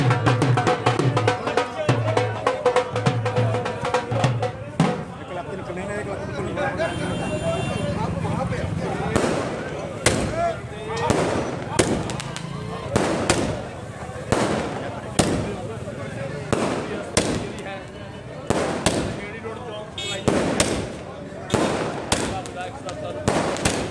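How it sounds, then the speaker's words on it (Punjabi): Firecrackers pop and burst repeatedly in irregular volleys, some close and sharp, over crowd voices and celebration noise, with bhangra dancing and sweets handed out, in Khanna, Punjab. "ਭੰਗੜੇ ਪਾ ਰਹੇ ਨੇ ਲੱਡੂ ਵੰਡ ਰਹੇ ਨੇ ਤੇ ਪਟਾਕੇ ਚਲਾ ਰਹੇ ਨੇ"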